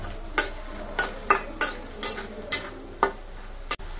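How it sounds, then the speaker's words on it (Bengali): Onions and garam masala with spices are stirred in a pan, regular close scraping strokes about twice a second over a low sizzle. "খুব ভালোভাবে পেঁয়াজের সাথে মশলাগুলো আমি এখন মিশিয়ে নিচ্ছি"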